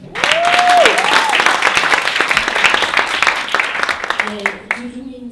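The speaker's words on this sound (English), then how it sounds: "Please give her a round of applause." An audience at a reunion welcome breakfast giving a lively round of applause, dense close clapping with a few whoops that fades after about four seconds into a murmur of voices.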